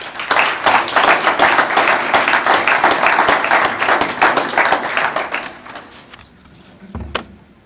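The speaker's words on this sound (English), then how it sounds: "So please, a round of applause for Chris McDonald." An audience at a talk applauds, a dense burst of clapping that goes on for several seconds and then thins out and stops near the end.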